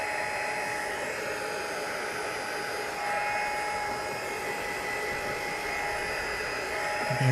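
A heat tool set to its dry setting blows steadily over embossing ink on a stamped card, giving a constant close whirring hiss that holds level throughout.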